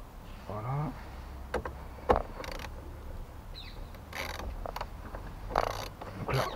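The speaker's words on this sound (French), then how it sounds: "Donc là on dévisse" Battery terminal being unscrewed on a Mercedes A-Class W176, with soft, close ratcheting clicks and creaks in short bursts over a quiet background.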